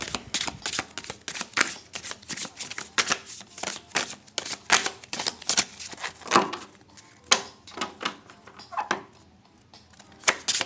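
Tarot cards are shuffled in a series of quick riffling bursts, crisp and close, with brief pauses between them and no talking.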